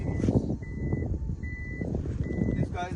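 A Toyota Harrier Modellista's automatic boot sounds a series of steady electronic warning beeps, repeating evenly over a low background rumble with possible voices nearby.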